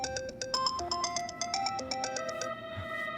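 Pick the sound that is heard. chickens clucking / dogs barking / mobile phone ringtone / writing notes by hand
mobile phone ringtone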